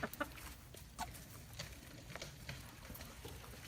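Chickens excited over fresh grass and clover cluck and peck in soft, scattered bursts, faint and close, with light pattering between calls.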